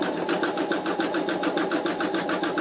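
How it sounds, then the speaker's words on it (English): An embroidery machine sews a satin stitch on an in-the-hoop wallet, a fast, even rattling chatter of needle strokes running steadily and close throughout. "let it complete the satin stitch on this one"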